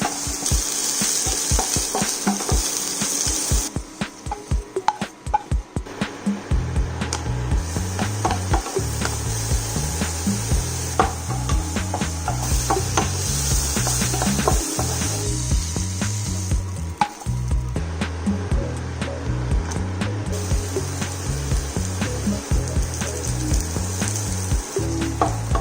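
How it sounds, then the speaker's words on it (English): Vegetables for japchae, Korean glass noodles, stir-fry in a hot pan with steady loud sizzling. A rapid rattling scrape comes first, then rhythmic tapping and scraping of a wooden utensil against the pan continues throughout, with no talk. "now we're going to stir fry it one by one"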